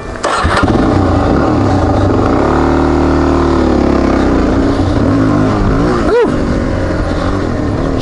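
A Suzuki DRZ400S motorcycle revs hard on a dirt trail near Angelus Oaks, its engine note rising and falling loudly and close as the tires spin out, with brief bits of talk.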